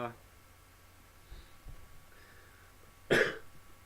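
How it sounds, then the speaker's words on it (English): A single sharp, close cough bursts out near the end, after a few seconds of quiet room noise with faint soft knocks. "sorry, I'm coughing a bit"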